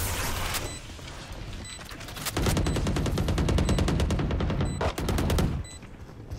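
Rapid gunfire from the Valorant video game, bursts of loud close shots in quick rhythmic succession with short pauses between volleys, no talk.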